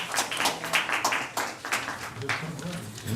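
Brief applause rings out at a Tiverton town council meeting after a unanimous vote, several seconds of dense clapping from the room with a voice speaking over it.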